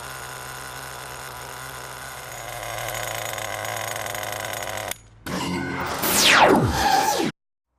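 An HPI Nitro 3 RC touring car's nitro engine buzzes steadily at idle, then after a short break revs up sharply and falls away in a loud swooping whine before cutting out.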